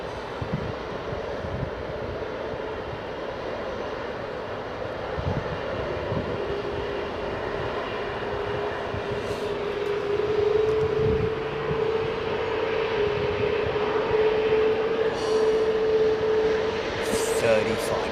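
An Airbus A380 departing Heathrow roars steadily, its jet engines forming a loud continuous rumble with a rising tone that swells toward the end, with voices talking over it.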